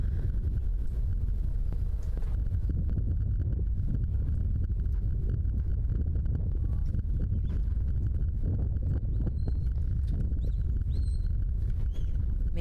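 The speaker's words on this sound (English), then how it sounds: "I know the wind can be difficult to listen to. We're trying to think of a way to fix that, but the gusts are in the 30s right now." Strong wind gusts buffet the microphone at an outdoor event, a steady loud rumbling roar that swells and dips throughout, with faint distant sounds underneath.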